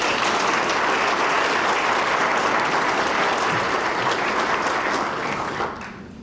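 An audience applauds at a formal anniversary session of an electrical engineering faculty, with loud, dense clapping filling the hall that holds steady and then tapers off at the end.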